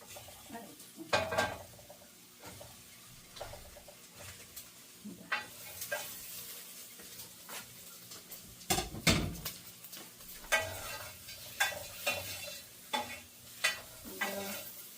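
Shrimp and onion sizzle in a pan while a utensil scrapes and stirs, producing irregular clanks and bursts of frying over a soft, steady crackle, close and moderately quiet.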